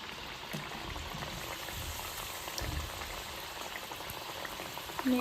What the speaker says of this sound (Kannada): ಲೋ ಫ್ಲೇಮಲ್ಲಿ ಇಟ್ಕೊಂಡು ಫ್ರೈ ಮಾಡ್ಕೊಳ್ಳಿ.